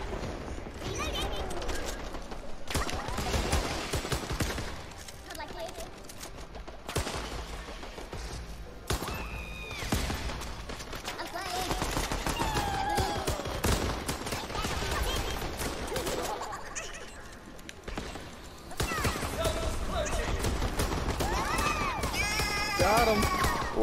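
Weapon fire in the arcade shooter Worms Rumble, dense bursts of rapid shots and crashing impacts running nearly nonstop, loud and close, mixed with game effects and occasional voices.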